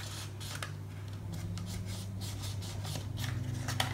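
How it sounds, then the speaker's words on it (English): A folded score in paper is burnished while assembling a hexagonal paper drawer unit, giving a steady, soft scraping rub that repeats in short strokes over a low background hum. "Need to give that one a burnish."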